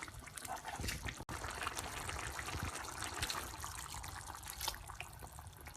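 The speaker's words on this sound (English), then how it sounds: "add in half a cup of water" Water pouring and splashing into a soup pot of spicy chicken soup with pasta, a continuous liquid rush with small clinks, moderately close.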